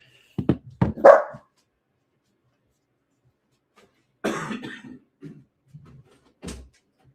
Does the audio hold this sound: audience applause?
no